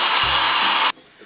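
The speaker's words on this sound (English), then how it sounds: "Or use a hairdryer." A hair dryer blows loudly with a dense, steady airy roar, then cuts off abruptly just under a second in, leaving quiet room tone.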